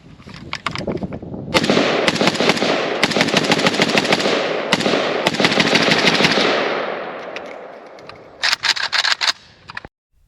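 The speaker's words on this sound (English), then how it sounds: "Now we're going to let Fox try the KP-104." A KUSA KP-104 AK-pattern carbine, chambered in 5.45 or 7.62x39, firing long rapid automatic bursts close by, a dense stream of sharp cracks for several seconds, then a short final burst, with no talk.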